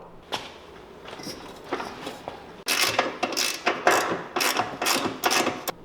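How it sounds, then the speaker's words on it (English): A nut on the suspension is tightened during a wheel alignment, giving a run of quick ratcheting clicks and metallic bursts that get louder and more regular in the second half, close by in a quiet shop. "We'll put it on 0 and I'll tighten up a nut."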